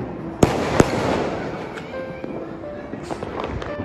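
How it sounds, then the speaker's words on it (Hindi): Firecrackers and bombs burst during Diwali (Bagwal) celebrations in Uttarakhand, with two sharp loud bangs near the start and then scattered smaller pops and crackles over a steady background din of distant fireworks. "अभी इतने पटाखे बम पटाखे फूट रहे हैं।"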